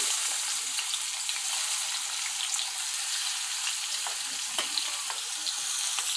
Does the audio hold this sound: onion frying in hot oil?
yes